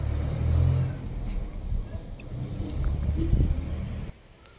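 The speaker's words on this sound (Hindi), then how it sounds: "ट्रैक्टर आ गया था, इसीलिए वीडियो रोक दिए थे।" A tractor rumbles past outdoors in strong wind, a low engine drone that swells, eases and swells again before cutting off abruptly near the end, with wind buffeting the microphone.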